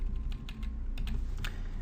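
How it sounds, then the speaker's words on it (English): Arrow keys on a computer keyboard are tapped in a quiet room, giving a short series of soft, irregular clicks with no talking. "I can nudge this using arrows on the keyboard"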